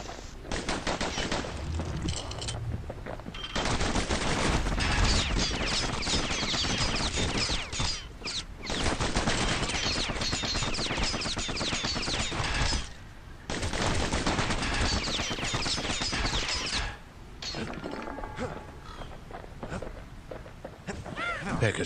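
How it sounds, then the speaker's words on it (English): Twin slinger pistols in the video game Bastion fire in long, dense, rapid bursts, loud and continuous with brief pauses between volleys, over a steady game soundtrack. "Know what's better than having a slinger pistol in a fight? Having two."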